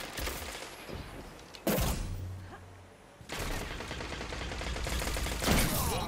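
Rapid gunfire in the shooter game Destiny 2: dense bursts of shots separated by short pauses, loud and close, with no speech over them.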